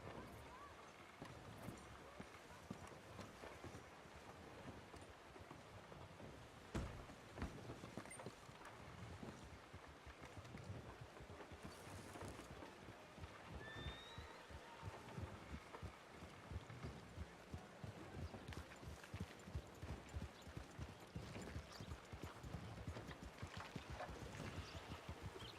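Horses carrying riders approach in a roleplayed video game, hooves clip-clopping steadily over a dense, busy background with voices mixed in throughout.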